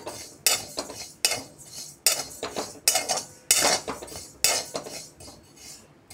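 Cumin seeds are stirred as they roast in a metal pan, a spoon scraping and clinking against the pan in repeated close, rhythmic strokes with seeds rattling between them.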